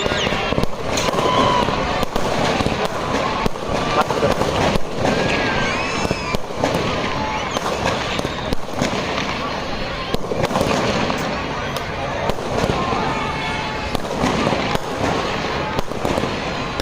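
A fireworks display at Bhagwant Maidan in Barshi, with dense, rapid bursts and crackling pops going off continuously and loudly, while someone speaks over the noise and a crowd murmurs in the background.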